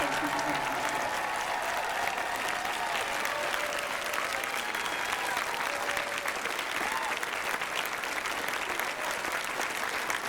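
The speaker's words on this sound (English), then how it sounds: "please take a moment and give a loud round of applause" Loud, dense applause from a large convention audience at a closing ceremony, steady and sustained throughout without letting up.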